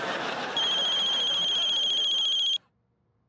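A telephone rings with a loud, steady electronic trill close by for about two seconds, then cuts off into near silence.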